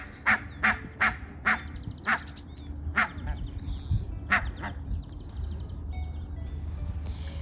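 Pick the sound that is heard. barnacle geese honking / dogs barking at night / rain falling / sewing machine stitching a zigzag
barnacle geese honking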